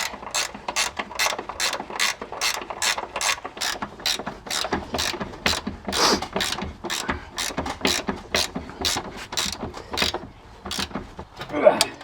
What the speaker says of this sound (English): we're going to get our 14 mil in here, start tightening up these bolts back here